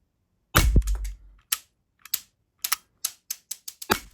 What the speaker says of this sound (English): we're gonna do single shots here.